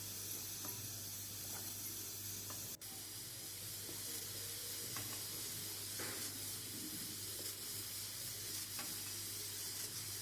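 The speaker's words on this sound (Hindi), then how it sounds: "यहाँ पे देखिए पानी उबलने लगे हैं, तो इसी में गोभी को डाल दूँगी" Water at a rolling boil in a cooking pot as cauliflower goes in, a soft continuous hiss and bubbling with scattered light clinks and splashes, low in level with no talking.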